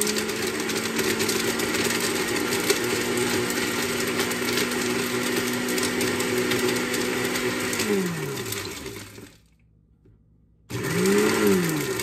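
A large kitchen blender grinding ginger snap cookies into crumbs: a steady, loud motor whine that winds down, stops in silence, then starts again with a rising spin-up.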